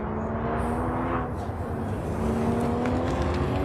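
A Porsche Boxster runs an SCCA autocross course at Auto Club Speedway, its engine a steady, continuous drone that climbs and holds pitch, with a faint voice under it.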